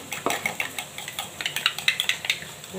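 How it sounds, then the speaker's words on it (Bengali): Rice flour being stirred with water in a bowl, a spoon scraping and clinking against the bowl in quick, regular strokes, close and fairly crisp, with no voices. "এবার চালের গুঁড়াটা একটুখানি জল দিয়ে গুলে নেব করে।"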